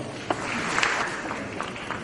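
Applause from an audience at a plenary meeting in Lima as a speaker is welcomed, a moderate, steady patter of clapping heard from a distance.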